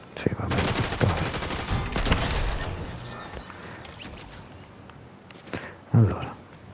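Rapid volleys of gunfire in the video game Fortnite, several sharp bursts close together, with a final loud shot near the end.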